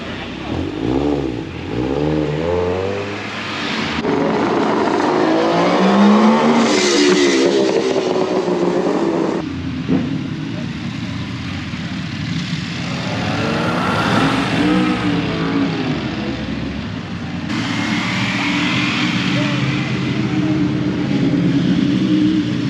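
Sports cars and motorbikes rev and accelerate along a road, engines rising and falling in loud overlapping passes, with people talking over the traffic.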